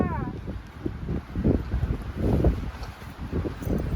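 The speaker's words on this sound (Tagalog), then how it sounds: "Hangin lang yun. Parang bagyo siya." Strong wind gusts buffet the microphone in low, rumbling surges, loud and continuous throughout.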